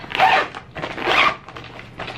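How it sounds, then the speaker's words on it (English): A zipper on an IKEA bag is pulled open in two long, close rasping strokes, followed by a few shorter, softer zips. "so let's find the zipper."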